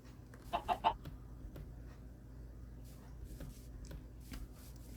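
Three quick clucks from Minecraft chickens up front, followed by soft scattered clicks and faint clucking over a low hum.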